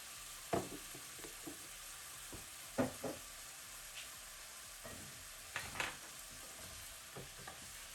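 Beef frying in a pan with light soy sauce added, giving a soft steady sizzle broken by a few louder stirring scrapes and clatters, close and without speech.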